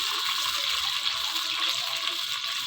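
Water being poured from a mug into a pot of rice for cooking, a continuous bright hissing splash, steady and close for the whole stretch.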